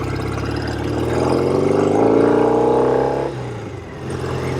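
A 1972 Norton 750 Commando engine runs close and loud, swelling as the revs rise and then dropping back as it shifts gears.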